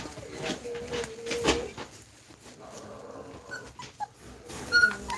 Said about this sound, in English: Why is Tank cornering that one puppy?